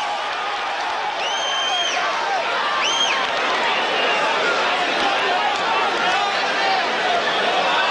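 Boxing arena crowd murmuring and booing at a fighter who keeps clinching, a broad continuous roar of many voices with a few whistles, under a commentator's talk.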